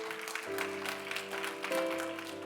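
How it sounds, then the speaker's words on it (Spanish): A church congregation claps during a worship service while sustained keyboard chords hold underneath. The applause is fairly faint and scattered, with soft crackling hand claps mixed into the steady organ-like tones. "Denle ese aplauso fuerte a Cristo"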